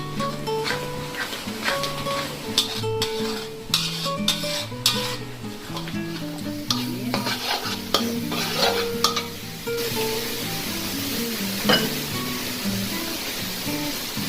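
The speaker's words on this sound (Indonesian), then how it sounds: "Lanjutkan memasaknya sambil terus diaduk supaya tidak gosong sampai airnya habis dan bumbu menjadi matang" Chicken fillet with spices being stirred in a hot pan, simmering away its liquid: a steady sizzle under repeated scraping and clinking of a utensil against the pan, close up and with no one speaking.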